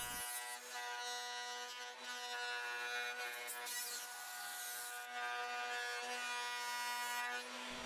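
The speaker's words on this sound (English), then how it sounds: "Then all the rest over at the router table." Router table cutting wood for a workbench, a steady high-pitched motor whine held at constant loudness with a brief change midway, close and alone without talk.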